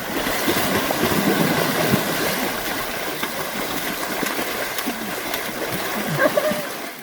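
Steady rush and splash of water running in a mountain spring stream along a hiking trail near Islamabad, continuous and fairly loud throughout with a low engine-like rumble beneath and no clear talk.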